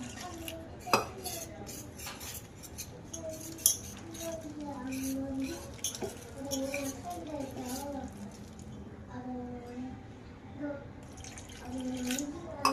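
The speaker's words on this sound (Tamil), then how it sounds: "இப்போ கொஞ்சம் கொஞ்சமாக தண்ணி சேர்த்து மிக்ஸ் பண்ணி விட்டுக்கலாம்" A utensil scrapes and clinks against a bowl as wet flour batter is stirred with water added bit by bit for potato fries, with soft sloshing and a voice speaking over the mixing.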